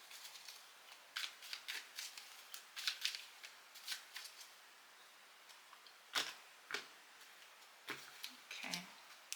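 A small deck of tarot cards being shuffled close up during a reading, soft papery riffles and flicks in irregular bursts with brief pauses between, quiet and alone.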